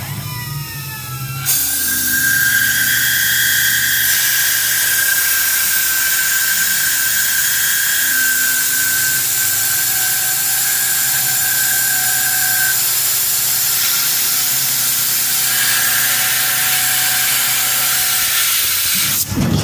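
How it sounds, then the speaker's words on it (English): A Tormach PCNC 1100 CNC mill drilling 1018 steel, loud and close: a sustained high hissing whine with a steady tonal squeal that holds for most of the cut before winding down. "it's a drill bit drilling 1018 steel"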